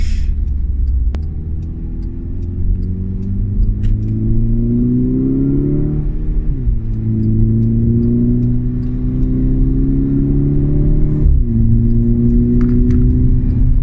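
A Volkswagen Mk6 GTI with a DSG gearbox drives along under steady engine and exhaust drone, its pitch rising through the gears with short dips at the shifts, heard loud from inside the car.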